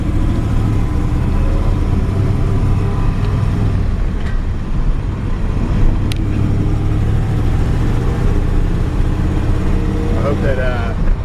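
A 1963 Ford F-100 pickup with a 3-speed column shift drives along, a steady loud engine and road drone filling the whole stretch from inside the cab, with a little speech in the background.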